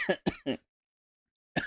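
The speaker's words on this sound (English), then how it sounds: "Gotta be careful when coughing." Three quick coughs in a row, fairly close and clear, then a brief silence before a fourth cough starts at the end; no talking.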